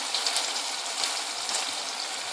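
Eggplant for baingan bharta fries in a pan, a dense, even hiss of close sizzling that stays constant with no pauses.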